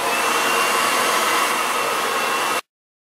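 Hair dryer blowing on a soaked page of a smythe-sewn leather-bound book, a loud steady whooshing hum held for over two seconds before cutting off abruptly.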